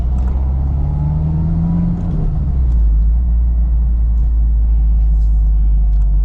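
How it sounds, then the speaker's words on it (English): Manual transmission car braking, downshifting and turning left, heard from inside as a steady low engine rumble with a brief rise in engine tone partway through, continuous and fairly loud, no talking. "I'm gonna brake a little bit. Downshift. Okay, turn left."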